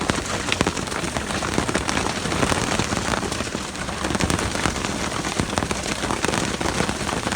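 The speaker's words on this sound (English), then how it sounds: "So our little rainstorm's turned into a hailstorm." Hail pelts military vehicles during a storm, a loud, continuous clatter of dense impacts with scattered sharper cracks, close by and without voices.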